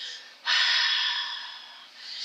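Ujjayi yoga breathing, a slightly constricted-throat breath like warming hands, heard as a close, soft hissing exhale that swells and slowly fades, then begins again alone.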